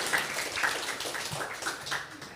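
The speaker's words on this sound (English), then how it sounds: "I would like everyone to give a very warm round of applause for Professor Kishore Mahbubani" A short burst of audience applause for Professor Kishore Mahbubani at a lecture. The clapping is moderately loud and textured with individual claps poking through, and no one speaks.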